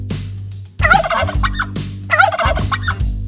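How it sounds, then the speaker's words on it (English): A toucan calls in a run of loud, close, croaking bursts, each a rough rising-and-falling note over a low steady hum. "Toucan."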